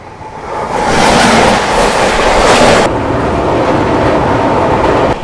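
Magadh Express train rushing past a moving passenger train on an Indian railway line during overtaking, a loud roaring whoosh with rattling wheels and clickety-clack that swells and then drops off sharply.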